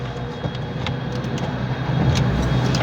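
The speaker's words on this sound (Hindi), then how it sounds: "अब गाड़ी स्टार्ट करो, एक्सीलेटर छोड़ दो, गाड़ी स्टार्ट करो" A Renault Duster running on CNG starts up, its engine settling into a steady idle with a low hum that grows slightly louder over a few seconds, heard close up.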